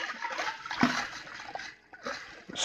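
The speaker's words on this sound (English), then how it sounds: "Then we'll stir the yeast into solution." Yeast being stirred into a liquid starter solution, giving soft, continuous watery sloshing and splashing with a few brief louder swirls, close by and with no talk.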